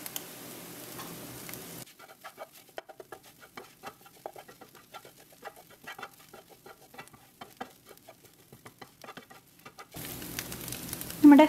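Scrambled eggs seasoned with half a teaspoon of pepper powder are stirred in a pan, giving a steady run of light scraping and soft sizzling taps at close range, set between louder stretches of kitchen background.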